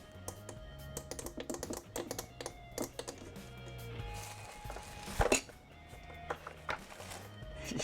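Clicky buttons on a ZD915 desoldering station being pressed, giving a run of sharp, close clicks and taps in irregular bursts with one louder knock near the end, over faint background hum.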